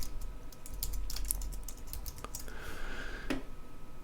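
Rapid, uneven clicking of keys on a computer keyboard, close and fairly soft, continuing for several seconds with a brief pause partway through.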